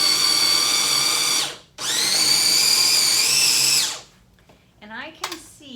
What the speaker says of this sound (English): we're gonna blend it together